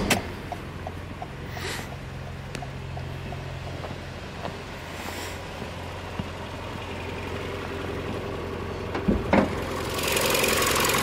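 A 2023 Toyota Camry SE with a 2.5-liter four-cylinder engine idles in a steady low drone, with a few brief clicks and a louder rushing swell near the end.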